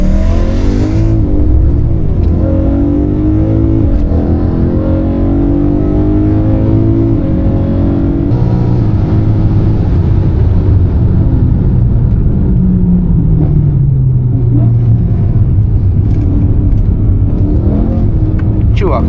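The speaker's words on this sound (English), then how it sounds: "it was quite fun to experience the nice naturally aspirated V8" A modified BMW M3's naturally aspirated V8 revs loudly and continuously, its note rising and falling through sweeping pitch changes, close and dominant throughout, with speech mixed underneath.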